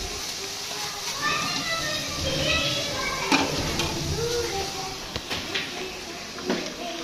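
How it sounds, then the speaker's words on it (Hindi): Pakoras frying in hot oil give a steady, close sizzle with occasional stirring clatter, while voices and household sounds carry on in the background. "अब हम कर रहे हैं फ्राई"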